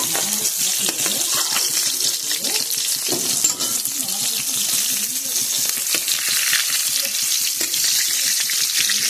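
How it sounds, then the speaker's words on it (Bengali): Fish frying in hot oil gives a loud, dense, continuous crackling sizzle heard up close for the whole stretch, with occasional faint clinks and a little low background noise. "মাছটা ভাজা হয়ে গেছে এখন এটা আমি নামিয়ে নেব"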